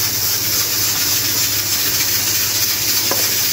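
Chicken being stirred in a hot frying pan while cooking, a constant loud sizzle and hiss with the soft scrape of stirring underneath and a faint clink near the end.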